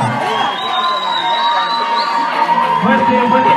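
A crowd at a school pageant contest cheering, whooping and applauding for a contestant, a dense, loud, continuous roar of shouts and clapping with high-pitched voices.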